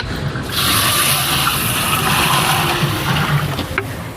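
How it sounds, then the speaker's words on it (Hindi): Water gushes steadily into a large pot of fried chana and potatoes for pulao, about fifteen kilos of water for ten kilos of rice, a loud continuous pour that starts abruptly and runs on with no talking. "तो अभी डालूंगा मैं पानी।"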